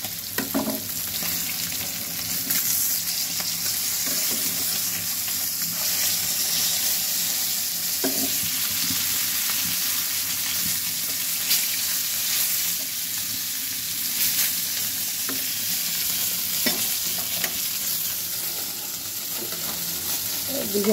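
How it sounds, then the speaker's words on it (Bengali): Vegetables being sautéed with spices in a pan after fish was fried, giving a continuous close sizzle with occasional stirring scrapes throughout. "মশলা দিয়ে ভালো করে একদম সবজির সাথে কষাই নিতেছি"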